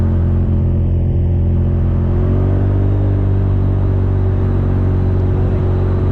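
A 2020 Honda Talon 1000 RR side-by-side drives along a twisting mountain road, its engine a steady, loud, close rumble that rises slightly in pitch partway through, with no voices.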